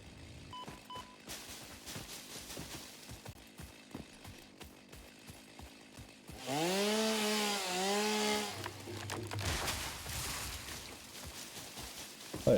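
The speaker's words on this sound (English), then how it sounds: "Alright, so the chainsaw has 2 modes." A chainsaw in the video game Satisfactory cutting trees: a loud, harmonic engine whine rises and falls for about two seconds midway, preceded by quieter clattering footsteps and ambient game noise, with no talking.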